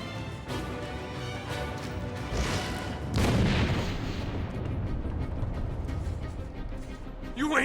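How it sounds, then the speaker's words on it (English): A grenade explosion in Batman: Arkham City sets off a loud, rumbling boom in the middle of sustained low game noise and scattered impacts, then a long decaying rumble. "Grenade!"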